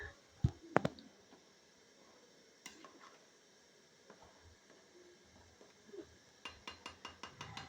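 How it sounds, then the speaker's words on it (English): A spoon stirs party jollof rice in a pot, with a few sharp clanks against the metal, quiet scraping and faint sizzling between them, then a quick run of rhythmic taps near the end. "You stir to make sure everything is well incorporated."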